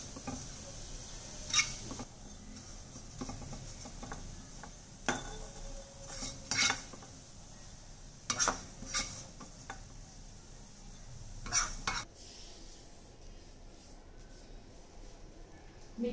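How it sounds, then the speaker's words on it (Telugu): Coconut pieces dry-roasting in a pan while being stirred, with faint scraping and sizzle under sharp intermittent clinks of a utensil against the pan, close and fairly quiet. "కొబ్బరి మనం వేపుకుంటున్నాం కదండి"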